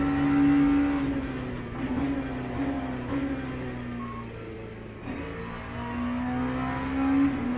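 An LMP2 race car engine in the Le Mans Ultimate racing game climbs through its gears, a steady droning tone that rises, drops at shifts and rises again, moderately loud with no talk.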